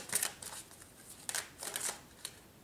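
Tarot cards are shuffled by hand in a few quick bursts of crisp riffling and snapping, close and fairly quiet, separated by brief pauses.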